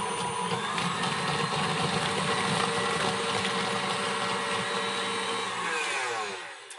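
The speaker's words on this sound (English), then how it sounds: "now we're going to turn this on, and we just basically want to start whipping the avocado butter" A stand mixer whipping avocado body butter runs as a loud, steady motorized whir with a dense mechanical hum that holds for several seconds, then winds down and stops near the end.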